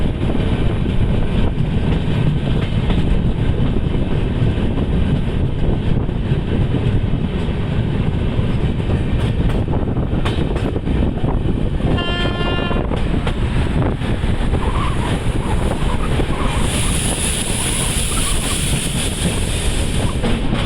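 Bhubaneshwar Rajdhani Express running on the Howrah–Mumbai mail line: a loud, continuous rumble and wind roar fills the whole stretch, with a brief rapid clatter partway through and a high whine near the end.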